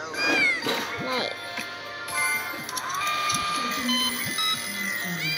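Cartoon cats meow repeatedly in the pet-shop video game My Pet Shop, with bright, short calls over a busy layer of background game music and chimes.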